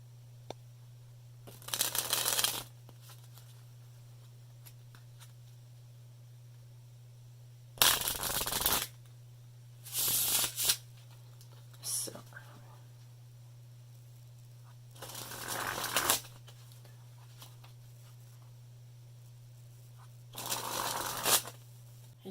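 An Oblique playing card deck riffles in five separate bursts of crisp, close shuffling, each a second or so long, with quiet handling between them and a steady low hum underneath.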